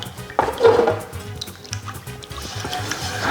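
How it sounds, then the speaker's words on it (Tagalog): A spoon stirs a gravy mixture of evaporated filled milk, soy sauce, cornstarch, beef cube and water in a pan before any heat, with scraping and sloshing clinks that rise, ease off and continue steadily. "Wala pang apoy yan, ha? Haluin ko lang mabuti."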